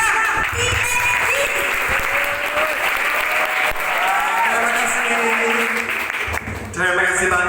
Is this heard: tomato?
no